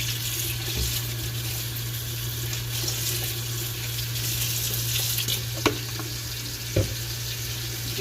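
Water poured over spelt puffed cakes cooking in a pan, giving a steady hiss and sizzle with a constant low hum beneath and a couple of brief knocks.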